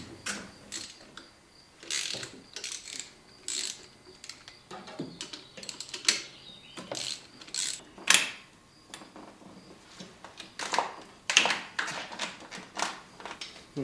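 A hand ratchet clicks in quick repeated bursts while half-inch bolts come off the spark plug rail of a Jeep 4.0L engine, close and crisp with short pauses between runs of clicks.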